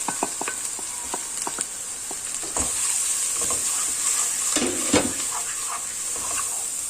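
Spices being stirred into onions frying in a pan for a goat trotter paya dish, a steady close sizzle with scraping stir strokes and utensil clicks throughout.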